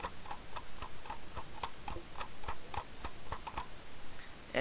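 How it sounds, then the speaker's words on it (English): Computer mouse scroll wheel clicking right up against the microphone, a quick series of small, crisp ticks in uneven bursts over quiet room tone. "I don't know if you hear my scroll wheel right now"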